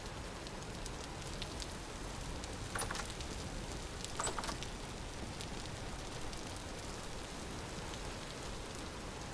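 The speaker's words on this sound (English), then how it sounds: "It's always raining over here." Steady rainfall in the Vintage Story video game, a constant dense hiss of drops pattering on surfaces with a few slightly louder splashes, heard alone without talk.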